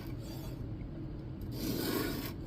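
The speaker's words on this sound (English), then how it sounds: "N690 isn't all that difficult to sharpen, so this shouldn't take too terribly long." A Kizer Domin knife with N690 steel is drawn across a sharpening stone, giving a soft continuous rubbing and rasping scrape that swells slightly toward the end.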